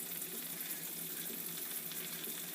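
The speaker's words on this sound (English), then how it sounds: "While that onion's cooking, we're going to get the rest of this out." Wild onion frying in a pan, a soft, steady hiss of sizzling oil with fine crackles, faint and even throughout the short stretch.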